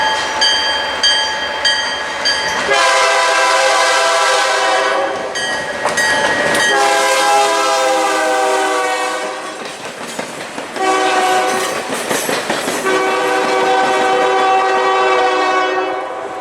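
Adirondack Railroad Otter Lake local train passing close by, sounding several long loud horn blasts over continuous rumbling and clattering wheels, with no talking.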